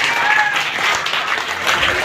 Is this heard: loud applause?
yes